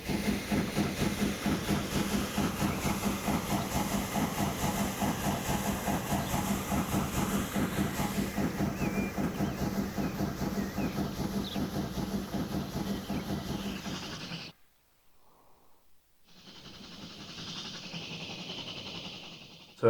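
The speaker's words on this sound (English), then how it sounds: "quite a big train, to be fair." A train in Transport Fever 2 rumbles along with a rapid rhythmic chugging and hiss, cuts out abruptly to near silence, then returns as a softer steady hiss; no voices.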